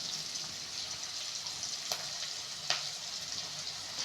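Onions sautéing with a little salt in a pan for Tamil egg thokku, a steady close hiss of frying with a couple of sharp stir clicks, no talking.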